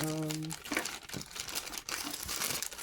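A plastic bag crinkles and rustles continuously while items are filed away, close and fairly loud, with a brief tonal beep at the start and a voice talking over the crackling.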